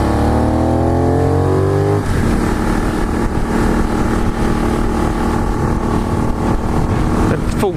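A Benelli 752S motorcycle rides through twisty roads. Its engine sits loud and close, with a rising rev, a shift, and then a sustained throbbing drone under strong wind rush.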